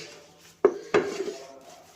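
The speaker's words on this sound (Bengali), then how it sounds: "ভালো ভালো ঘষে ঘষে বাসন না মাজলে বাসন পরিষ্কার হয় না গো।" Pots and dishes are washed by hand, with two sharp metallic clanks of utensils against a pan followed by fainter rattling.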